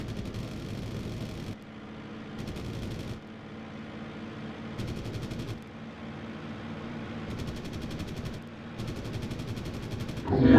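Rapid bursts of gunfire from an aircraft combat video game rattle in repeated volleys of a second or two, separated by short pauses over a constant engine drone.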